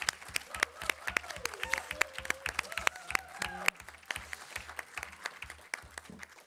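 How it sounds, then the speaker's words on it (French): Applause from a conference audience at an anti-corruption association's summer university, many distinct claps at moderate distance mixed into a crowd patter, with a few sharper claps standing out and the clapping gradually thinning. "On peut l'applaudir."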